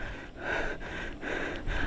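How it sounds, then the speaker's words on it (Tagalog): A cyclist riding uphill on a loop road in Quezon province pants heavily in close, rhythmic breaths, loud and near, with nothing else around. "Hingal."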